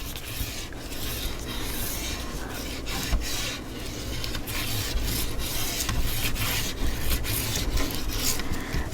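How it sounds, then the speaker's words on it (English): Steady, close rubbing and rasping as a tool burnishes paper on a handmade dinosaur-themed craft mini album, continuous scraping strokes with slight rhythmic pulses, no speech. "I'm going to flip this over and get some burnishing done"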